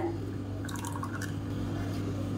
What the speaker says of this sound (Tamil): இப்போ மிக்ஸி அலசிட்டு கொஞ்சமாக தண்ணி சேர்த்துக்கிறேன்